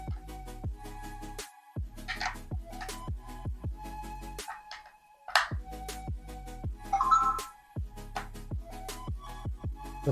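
A GLS 700 Realtime glass door lock system plays its startup chime, a bright electronic melody of repeated tones that rings clearly for several seconds with short gaps and no voices.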